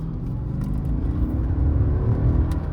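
A 2012 Mercedes-Benz S550 accelerates hard in a short, steady burst of engine and road rumble heard from inside the car, with no talking.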